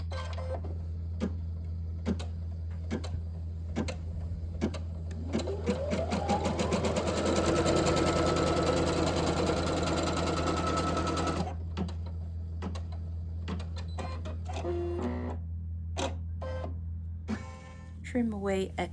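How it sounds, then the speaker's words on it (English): An embroidery machine stitches guidelines on a quilted scarf backed with batting, its motor whirring in quick rhythmic pulses that rise to a steady run midway, then stop and give way to short bursts, close and loud. "Now the machine is going to stitch out some guidelines."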